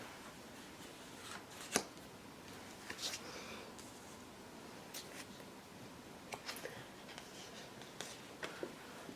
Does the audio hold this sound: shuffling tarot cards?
yes